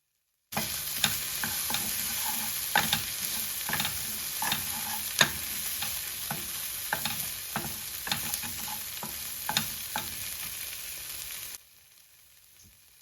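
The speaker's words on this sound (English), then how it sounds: "all we want to do is saute the corn here and all the spices" Canned sweet corn with spices sautes in a pan, a steady bright sizzle broken by frequent sharp scraping clicks of stirring for about eleven seconds, then the sound cuts to near silence.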